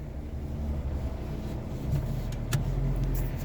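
Cars passing on a road heard from inside a vehicle, a faint steady engine hum and road rumble that swells slightly as traffic goes by, with a few short clicks and no talking.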